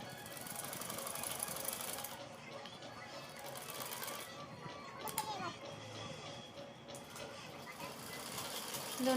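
A sewing machine stitching lace onto a lehnga runs in a fast, continuous mechanical whir with brief pauses, fairly quiet and close, while someone talks over it.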